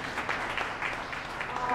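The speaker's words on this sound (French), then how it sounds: "Je vous demande de l'applaudir." At an awards ceremony for innovation and civic leadership, an audience applauds in a brief, even wash of clapping, with speech faintly mixed in.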